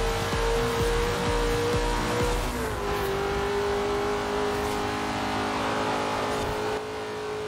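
Racing car engines roar in Forza Horizon 4, a close, sustained drone with a steady pitch that dips slightly after a gear change, continuous and loud with no talking.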